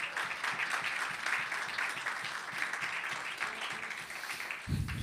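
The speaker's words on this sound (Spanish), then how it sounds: "Un aplauso a las mujeres" Audience applause for the women at a church gathering, steady dense clapping throughout, with a louder burst near the end.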